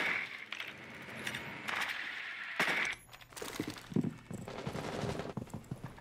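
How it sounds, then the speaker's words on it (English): Bursts of rapid gunfire crackle in short volleys in the video game Rainbow Six Siege, some sharp single shots among them, fairly quiet and distant-sounding. "Hear some gunshots."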